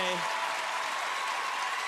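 A television talent-competition audience applauds and cheers during a standing ovation, a steady wash of clapping heard from a distance, with a brief musical tone at the start.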